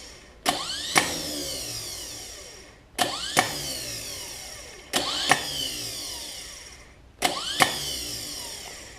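Starter motor on a 1960 Pontiac 389 V8, engaged in four separate bursts; each starts with a sharp click and a rising whine, then winds down, with short pauses between.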